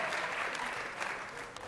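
Studio audience applause in a radio hall, soft and steady with a dense crackle of clapping throughout, moderately distant and held fairly quiet, with no talk over it.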